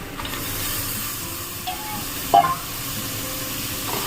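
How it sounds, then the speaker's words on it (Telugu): Soaked raw chana dal frying in oil, a steady soft hiss of sizzling with a brief louder pop near the middle, close and continuous, nobody speaking. "ఆయిల్లో బాగా వేయించుకుంటున్నాను"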